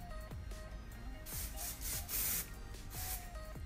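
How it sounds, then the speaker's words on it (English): Hairspray aerosol spritzed onto wavy hair from a distance, several short hissing bursts in an uneven rhythm, close and moderately loud with brief gaps between sprays. "I'm gonna use a small amount of hairspray"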